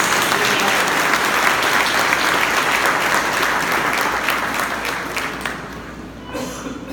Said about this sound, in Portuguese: Vamos aplaudir essa família que me deixou diante dos problemas